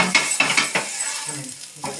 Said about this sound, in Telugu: అదిగోండి మా నాయనమ్మ దోశ వేస్తుంది.